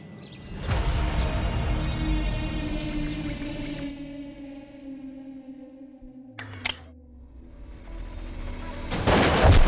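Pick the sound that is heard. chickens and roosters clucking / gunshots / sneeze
gunshots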